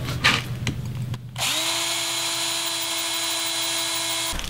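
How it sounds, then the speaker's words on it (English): A power drill bores holes while a threshold is installed on a tiny house, starting after a brief pause and then running as a steady, loud, continuous whine for about three seconds before stopping abruptly. "start drilling this out some"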